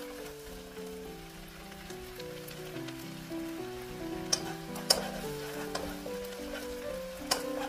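A seasoning sauce of chili peppers, garlic and ginger powder bubbles and sizzles steadily in a pan, with a few sharp ticks and pops over the hiss and a faint tonal hum beneath.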